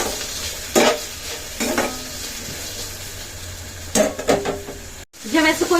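Vegetables sizzle steadily in a hot pan while a spoon scrapes and stirs in several bursts, with clinks of utensil against metal; close and moderately loud, no talking.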